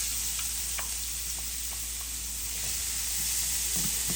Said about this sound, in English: I will go ahead and add my brunoise onions.